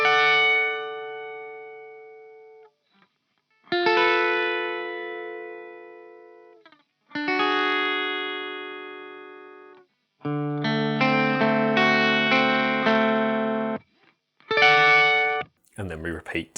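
A clean electric guitar with the effect switched off plays a slow arpeggio from a song, with separate picked chord shapes that ring out and fade in several phrases, close and alone.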